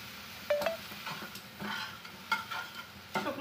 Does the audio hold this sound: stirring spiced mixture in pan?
yes